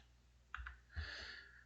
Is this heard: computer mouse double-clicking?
yes